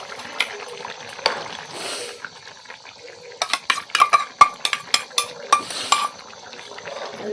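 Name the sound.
adding onion-coconut paste to bean usal and stirring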